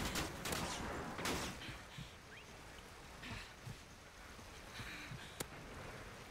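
Gunfire rattles in the video game Call of Duty: Ghosts during a multiplayer match. Bursts of shots crack near the start, then quieter scattered pops and a single sharp report sit over a faint, steady background wash.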